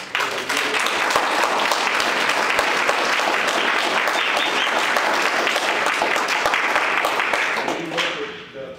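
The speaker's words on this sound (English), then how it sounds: "I want to applaud big time Mr. Dobson." A crowd applauds in a dense, steady burst of clapping that stays loud for several seconds before tapering off at the end.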